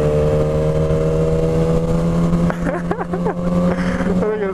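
A Corvette driving in cold, foggy weather gives a steady, loud engine drone with a constant low hum, then rises in pitch toward the end as the revs climb, with faint voice-like sounds mixed in.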